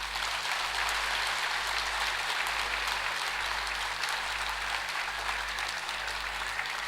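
A packed hall at a humour club's anniversary celebration in Triplicane fills with sustained, even applause from many hands, continuous and dense throughout with no voices over it.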